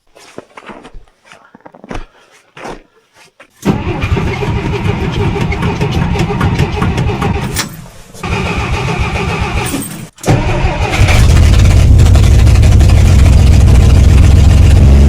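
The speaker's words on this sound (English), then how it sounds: "Let's go see if the Dodge wheel's going to fire up this morning." A Dodge truck on a cold Arctic morning cranks a few times with short bursts, then catches and roars loudly before settling into a rough, heavy idle, close by with brief voices early on.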